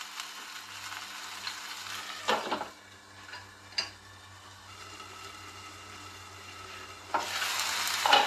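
Softened tomatoes sizzle and fry as their liquid cooks down in a pan. A steady, close hiss carries throughout, with a few louder bursts and utensil scrapes as they are stirred.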